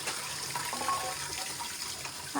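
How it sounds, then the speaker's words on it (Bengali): Coconut water pours steadily from a freshly cut green coconut, a soft continuous splashing trickle, fairly quiet and close, with no talking. "বাবা আবার ডাব কেটেছে, আবার ঢালতে হবে কিছুটা"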